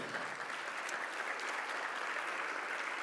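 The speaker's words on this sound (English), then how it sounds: "A round of applause." Steady, even applause from an audience at a conference opening ceremony, filling the whole moment at moderate distance with no voices over it.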